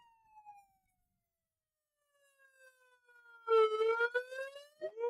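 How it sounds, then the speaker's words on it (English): A siren sound effect plays on a live stream, rising and wailing in clear, sustained tones. Brief quiet gaps break it, and it swells louder toward the end, alone and close. "Wow, I can play the siren."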